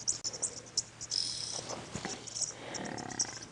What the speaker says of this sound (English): You can hear the oxpeckers chirping about as well.